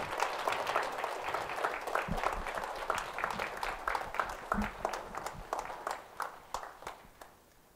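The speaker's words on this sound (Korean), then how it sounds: "여러분 큰 박수 부탁드립니다" Audience clapping at a Korean Buddhist temple ceremony, a full round of applause that thins out and fades into scattered individual claps toward the end, with a few footstep-like thuds mixed in.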